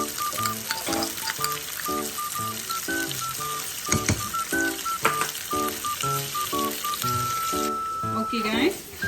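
A pot of biryani masala made with biryani paste bubbles and sizzles at a strong boil. Intermittent clinks and stirring sound over it, and a voice can be heard in the background.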